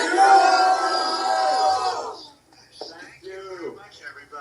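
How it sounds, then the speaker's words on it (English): A large crowd at a President Trump event roars with cheers and shouts, loud and sustained, then fades as a nearby voice begins speaking. "President Trump, you have the best crowd in the world."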